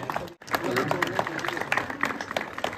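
An audience at an inter-school quiz competition in Sanjak, Kargil claps to welcome prize winners, a dense steady patter of applause mixed with crowd noise and talk throughout.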